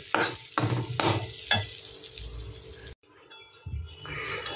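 Raw rice grains are dry-fried and stirred in a pan, making a light sizzle with several sharp scraping strokes of a spatula, then a brief pause and softer stirring.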